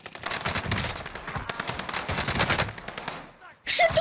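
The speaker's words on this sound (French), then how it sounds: "t'as vu, ça tire là dans la tour" Rapid bursts of gunfire ring out in a shooting video game, a dense crackling volley of shots that runs for several seconds, then drops away before a sharp loud burst at the end.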